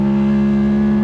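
A racing motorcycle at a CCS Thunderbike race at NCBike holds a loud, steady engine drone under power, with a strong buzzing tone and no break across the short stretch.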